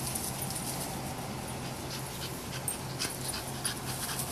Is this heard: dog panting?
yes